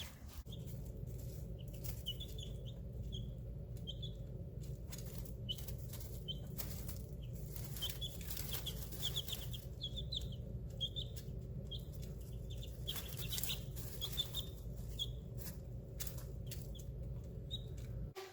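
Soft, scattered chirps and peeps from 21-day-old chicks in a brooder box repeat over a steady low hum, fairly quiet throughout.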